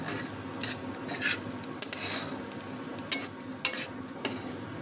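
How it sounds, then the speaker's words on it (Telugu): Bitter gourd being stirred and fried with onion spice powder, scraping spoon strokes against the pan over a faint sizzle, with a few sharp metal clinks, close and quiet. "బాగా కలిపి ఒక 5 మినిట్స్ వేయించేసి"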